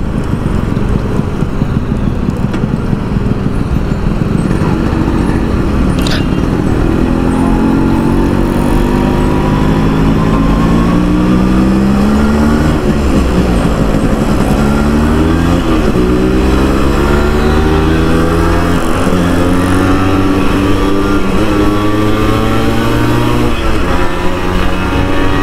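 Yamaha RX 100 motorcycle engine running loud and close throughout while riding, with harmonics sweeping up and down through repeated revs and gear changes, accompanied by steady wind rush.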